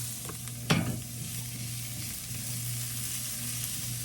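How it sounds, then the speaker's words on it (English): Food is sautéed in a pan, giving a steady close sizzle with a low hum beneath it and one brief clatter of stirring near the start. "All right, we're going to saute this."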